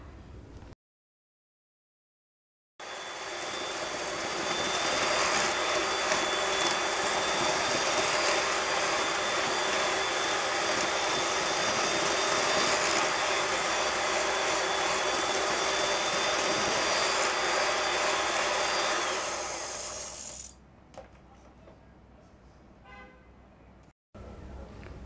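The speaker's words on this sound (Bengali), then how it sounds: "চিনিটা যখন মেশাবো তখন হচ্ছে লো স্পিড দিয়ে মেশাতে হবে" An electric mixer beats butter and sugar at low speed, a steady loud whirring drone that runs for about eighteen seconds before cutting off, followed by quieter handling noises.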